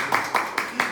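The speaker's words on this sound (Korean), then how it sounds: "오, 박수." Four quick hand claps come in an even rhythm, close and crisp, each a sharp slap with a short decay.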